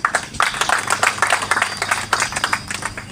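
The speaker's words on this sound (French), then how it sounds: "J'ai demandé, séance tenante, qu'on applaudisse pour le comité de développement" An assembly audience applauds for a school development committee at a general meeting, scattered hand claps of moderate loudness forming a brief, uneven round of applause.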